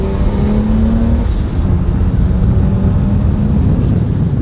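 A single-turbo BMW 335i running about 12 pounds of boost drones loudly and steadily from inside the cabin as it drives, a dense low engine and road roar with no pauses and no talking.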